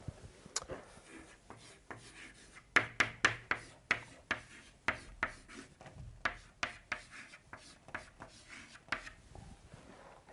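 Chalk or marker strokes on a lecture-hall board during a thermodynamics lecture, a brisk series of scratchy taps and rubs, close and clear, with no talking.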